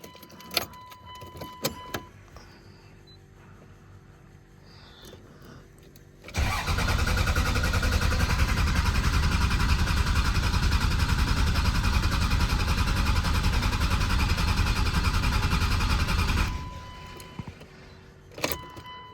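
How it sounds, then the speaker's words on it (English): A Cummins VP44 diesel truck engine cranks over after valve spring, push rod and injector work, a long continuous loud churning of the starter for about ten seconds, with faint clicks and shuffling before and after. "we will crank her over till she fires"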